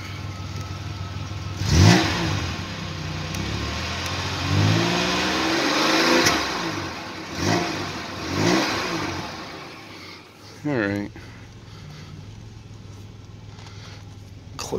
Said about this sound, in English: We'll do another rev.